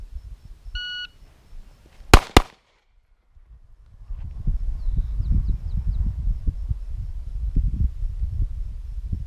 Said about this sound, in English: Turn my beeper on.